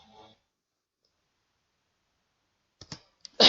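A computer keyboard clicks as a fare command is typed, a few sharp, isolated keystrokes arriving after a long silence, with a louder clatter at the very end.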